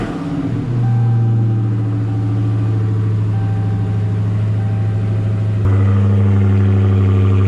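A Dodge Challenger Hellcat Widebody Daytona's engine cranks and fires, settling into a deep, loud idle before a sharp jump in revs near the end, with no talking.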